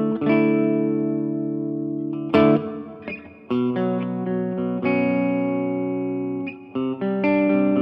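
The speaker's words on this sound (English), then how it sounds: "we have a hall reverb, which is a nice big one" Electric guitar chords through a Blackstar ID:60 amp ring out in a slow sequence, each one washed in a broad, lingering hall reverb that trails off between strums.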